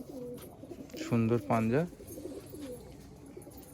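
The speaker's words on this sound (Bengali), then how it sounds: "দেখছেন পায়রাগুলো, পায়রা দেখুন" Low, rolling coos from a pair of Malwai pigeons sound close by, partly under a man's brief speech.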